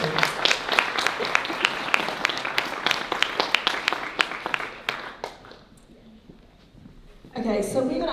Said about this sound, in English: Can we give them a warm round of applause, please?